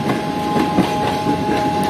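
Karachi Express passenger train rolling steadily past Bin Qasim station after a long signal stop, a continuous loud rumble of wheels and carriages with faint rhythmic clatter and no talk.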